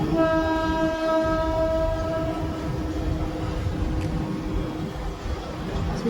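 A train crossing the Godavari bridge, heard from a nearby room, with a long horn blast at the start and then a continuous loud rumble of rolling wagons that carries on to the end.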